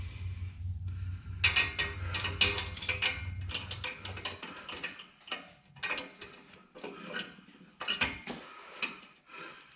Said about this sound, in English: Now we'll put the bottom part of the clamp on and the two nuts.